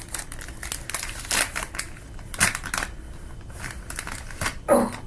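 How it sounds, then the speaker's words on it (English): Plastic wrapping from a Yves Saint Laurent Y eau de parfum box being crumpled by hand, giving several sharp crinkling bursts in irregular clusters, close and fairly loud with quieter rustling between. "Okay, so plastic is off, and we crumple that baby up and throw it away."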